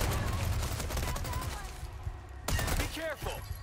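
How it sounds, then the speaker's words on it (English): Rapid automatic fire from the Chicago Sweeper in Resident Evil 4 Remake, a dense stream of loud close bursts that pauses briefly and then resumes, with a voice talking over parts of it. "You can use the Chicago Sweeper here too."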